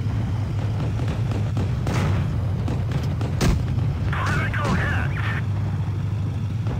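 Tank cannon fire in World of Tanks, heavy booming shots over a low engine rumble, with one sharp, loud blast standing out midway and people talking over the battle noise.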